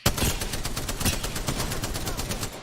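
Rapid automatic gunfire from the video game Apex Legends, a dense rattling burst of evenly spaced shots running throughout at steady loudness, no speech.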